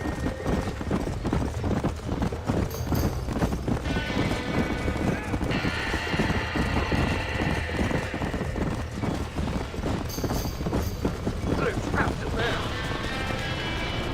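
Steady clip-clop of horse hooves with occasional whinnies, busy and close, over a dense rumbling background, from a burning barn in the video game Red Dead Redemption.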